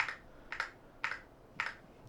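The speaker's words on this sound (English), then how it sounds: "The keyboard is super responsive, so as you can see, I'm tapping the Windows key." A single key on a YUNZII X98 mechanical keyboard pressed repeatedly in wireless mode: four evenly spaced, crisp clacks about half a second apart, close and clear over a faint background hiss.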